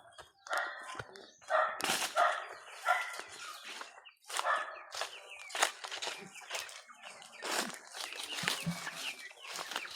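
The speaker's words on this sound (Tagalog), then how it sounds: "Hanggang dumaan na naman dito yung aso." Several sharp barks from a dog passing through a backyard farm, loud and near, scattered among clucking chickens and other farmyard bird calls.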